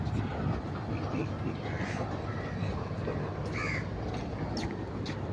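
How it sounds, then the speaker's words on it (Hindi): A crow in Singapore caws a few times, short faint calls over a steady background rumble of outdoor traffic-like noise. "अरे हाँ, जवाब दिया कौवे ने"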